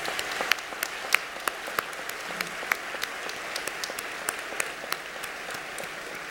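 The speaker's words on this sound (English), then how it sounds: "I think all of you deserve a huge applause for the great work you've done" A convocation audience applauds the students, a steady wash of many hands clapping with sharper individual claps standing out at a regular pace, moderately loud and without talk.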